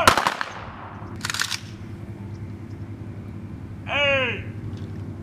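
A rifle volley fires in a gunfire salute at a memorial for Robin Williams, with sharp cracks near the start, another volley just after a second, and a shouted command later.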